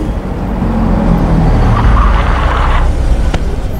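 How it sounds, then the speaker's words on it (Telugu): A car rolls to a halt, loud close engine and tyre-on-road noise swelling and then settling, with no voices over it. "ఇక్కడెందుకు కారు ఆపావు?"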